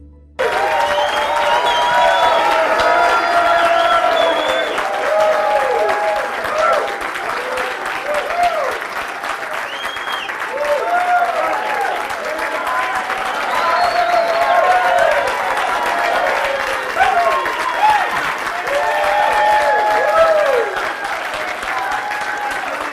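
An audience welcomes Dr. Neil Solomon with sustained, loud applause, dense crowd clapping that holds steady for about twenty seconds before easing slightly.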